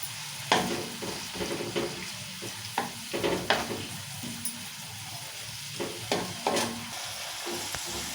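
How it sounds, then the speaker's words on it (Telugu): Onions fry in salted oil for a mutton curry, giving a continuous sizzle broken by scraping stirs and spatula knocks at irregular intervals. "ఉల్లిపాయలు అట్లనే మంచి ఎర్రగా అయ్యేటట్టు వేయించుకోవాలి"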